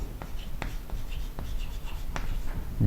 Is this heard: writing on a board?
yes